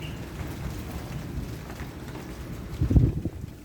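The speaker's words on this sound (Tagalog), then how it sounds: "Kumukulog" A low rumble of thunder swells near the end over steady wind and rain-like noise, loud and close.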